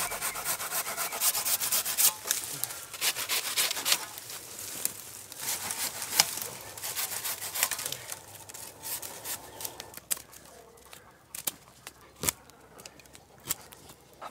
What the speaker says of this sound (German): Säge ist am Start, denn ich habe gerade eine kleine Idee